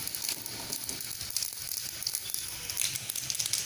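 Steady crackling sizzle of mustard seeds, chana dal and urad dal frying in hot oil for tomato chutney, close and continuous with small pops throughout, no voices.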